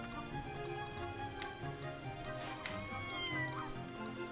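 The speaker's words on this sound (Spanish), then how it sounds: "Hay un gato aquí donde llega." A cat meows several times in Mika and the Witch's Mountain, the calls rising and sliding over steady game music, with one louder, drawn-out meow near the middle.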